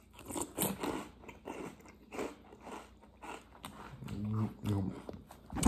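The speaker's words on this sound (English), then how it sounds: "And I'm just eating Cap'n Crunch." Someone eats Cap'n Crunch cereal up close, with loud, crisp bites and crunchy chewing arriving in irregular bursts, and a brief voice sound near the end.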